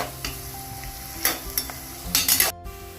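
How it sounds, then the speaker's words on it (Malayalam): Sliced onions frying and being stirred in a pan until crispy and brown for chicken biryani, with a steady low sizzle broken by several sharp scraping and clinking spoon strokes near the end. "സവാള വറുക്കുകയാണ് സവള നല്ല ക്രിസ്പി ആയിട്ട് വരുന്നത് വരെ ബ്രൗൺ കളർ വരുന്നത് വരെ നമുക്ക് നന്നായിട്ട് ഇളക്കിയെടുക്കും"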